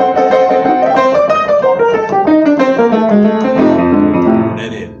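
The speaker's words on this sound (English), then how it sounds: "And the classic boogie intros sound something like this." Classic boogie woogie piano intro, a bright descending run of rolling notes over a low bass, loud and close, played solo with no talking.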